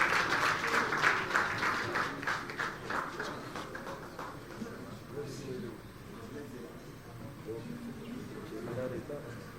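Applause from an audience greeting a guest at a concert contributions event, a busy clapping wash that fades under loud announcer speech and crowd chatter.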